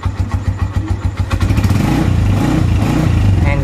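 A Honda TMX motorcycle engine revs up close, opening with quick, choppy throttle blips before settling into a loud, steady high-rpm drone that runs to the end.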